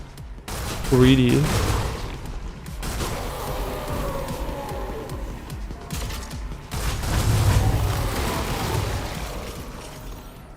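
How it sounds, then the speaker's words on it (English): Gunfire in the video game Stellar Blade sounds as rapid mechanical bursts and clanking weapon effects under game sounds, with a voice speaking briefly near the start. "shooting stuff feels really good in this game"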